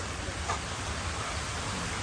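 Sudden heavy rain comes down in a broad, steady roar of hiss, dense and unvarying across the short stretch, with no voices over it.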